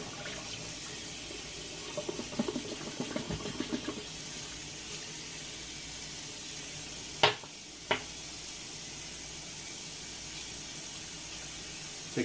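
Water runs steadily from a bathroom sink tap as it drains, a constant hissing wash that stays fairly close and alone, broken by a couple of brief sharp clicks near the end.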